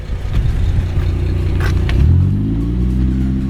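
A Holden car engine idles with a low rumble, then revs up partway through under a throttle controller, its pitch rising and holding at a higher drone.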